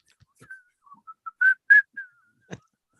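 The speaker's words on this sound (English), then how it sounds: "Yeah, whistle solo." A person whistles a short solo melody alone: a string of brief, clear notes with a couple of longer held tones, fairly close, with a faint knock near the end.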